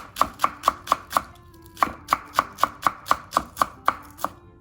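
A knife chops green onions on a board in quick, evenly spaced sharp taps, about a dozen crisp close strikes in two runs with a short pause between, with no speech.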